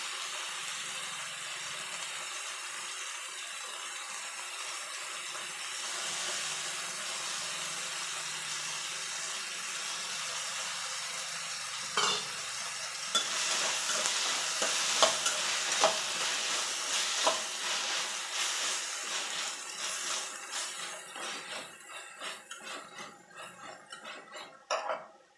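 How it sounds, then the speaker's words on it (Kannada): Soaked lentils tipped into a hot pan and stirred as they fry, giving a steady, close sizzle with scraping stirring strokes that grow louder partway through before fading at the end. "ಇವಾಗ ನೆನೆಸಿಟ್ಕೊಂಥ ಬ್ಯಾಳಿನ ಇದಕ್ಕೆ ಹಾಕ್ತೀನಿ."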